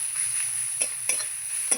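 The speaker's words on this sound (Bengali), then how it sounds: "এই যে আমি এখানে গরম মশলা আর পেঁয়াজটা আমি ভাজছি" Onions and garam masala frying in a pan, a steady close sizzle with a few short stirring scrapes, no voices.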